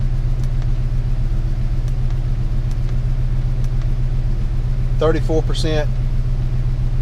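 A 1998 Ford Ranger 3.0 farm truck engine idling high, giving a steady low rumble throughout, with a brief stretch of speech over it near the end.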